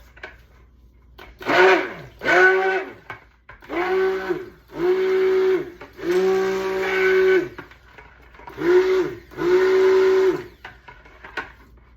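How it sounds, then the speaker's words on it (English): A stick blender mixes cold process goat milk soap in seven short bursts of a few seconds each, separated by brief pauses, its motor pitch rising and falling as it runs. "So I will use my emulsion blender."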